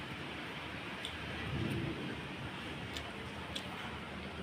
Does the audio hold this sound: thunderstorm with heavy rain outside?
yes